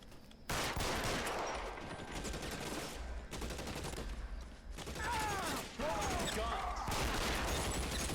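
Sustained gunfire in the LA Noire video game, dense bursts of rapid shots and crackling fusillades running almost continuously at high volume, briefly dropping out twice before resuming.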